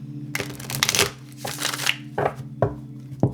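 A deck of tarot cards being shuffled up close, with several quick riffling bursts followed by shorter, sharper taps and slides as the cards settle, over a faint steady hum and no speech.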